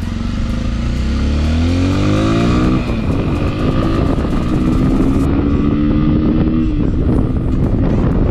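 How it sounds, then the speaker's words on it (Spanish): Exhaust of a nearly new Italika V200 motorcycle revving loudly up through the gears, with rising engine tones, a shift and wind buffeting the microphone, no talk. "El escape escucha muy bien."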